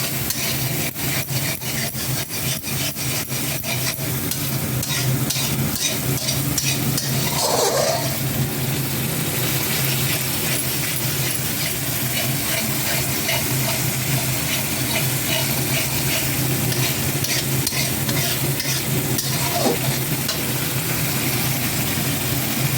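Spices frying with a splash of water in a pan give a steady, loud hiss and sizzle that runs unbroken throughout, close by with no talking.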